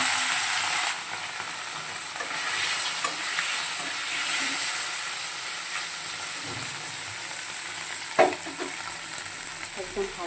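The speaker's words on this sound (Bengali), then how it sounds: "একদম হালকা ভাজবো।" Gule fish rubbed with salt and turmeric frying lightly in a pan, a continuous bright sizzle with a few soft utensil knocks, close and steady, no talk.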